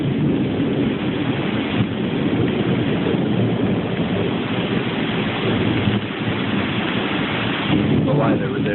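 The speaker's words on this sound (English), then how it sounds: "this is a really nice storm" A thunderstorm heard from a front porch: steady, loud rain roars throughout with low rumbling thunder mixed in, and a brief lull near six seconds before the downpour continues.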